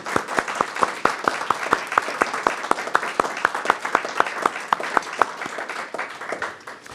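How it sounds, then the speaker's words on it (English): A round of applause at a school board meeting: a small group claps in a steady, fairly fast rhythm for several seconds at moderate volume, with a faint murmur beneath. "Once again, a round of applause for these folks."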